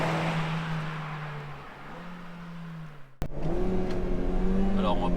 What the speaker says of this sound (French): De l'intérieur, on entend uniquement le bruit du moteur.